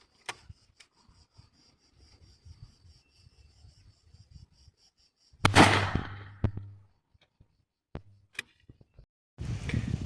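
Outdoors with insects chirping steadily, then a single loud, sharp shotgun blast from a F.A.I.R SLX-800 with cylinder choke at 15 metres booms out and rings briefly, followed by a few faint clicks and a burst of wind noise.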